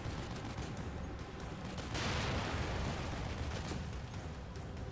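A minigun in The Evil Within video game firing without pause: a dense, loud, continuous roar of rapid shots that swells briefly midway, with no voices.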